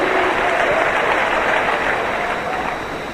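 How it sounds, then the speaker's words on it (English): Audience hand clapping during a public speaking sermon, a dense, continuous roar of applause that stays loud and then eases slightly toward the end. "Now give them a big hand clap"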